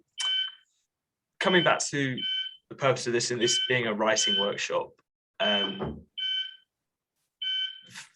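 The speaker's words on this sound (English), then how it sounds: "we do have an intermittent fire alarm going off here" A fire alarm beeps intermittently in short repeated electronic tones in a room, sounding through gaps between a person's speech and sitting clear in the pauses.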